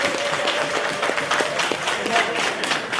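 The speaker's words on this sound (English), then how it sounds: "just give me a round of applause" A crowd at the Barbados Police Service recruitment fair gives a sustained round of applause, a dense wash of clapping at moderate distance with no talk over it.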